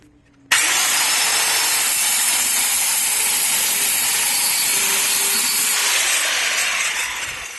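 A power saw bites into a clamped guitar case, starting abruptly and running as one loud, sustained buzzing cut that tapers slightly at the end.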